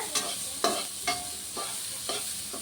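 Chopped onions sautéing in a pan for samosa stuffing, with a steady sizzle broken by several distinct scraping stirs of a spoon, close and fairly loud, no voices.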